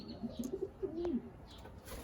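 Gerard Koopman racing pigeons in a loft in Seguin, Texas, give soft low coos in short repeated bursts, faint and near, with slight rustling behind them and no talking.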